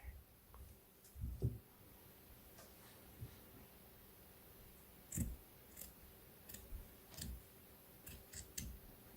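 Scissors snip through fabric while a teddy bear is cut out, giving soft, faint clicks and crisp cuts spaced irregularly, with a few louder snips in a quiet room.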